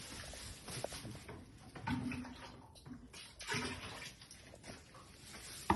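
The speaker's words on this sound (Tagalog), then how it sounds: "And then, lagyan natin ng tubig." Water poured onto potting soil, a faint uneven splashing and trickling wash with a few soft gurgles, fairly close and steady throughout.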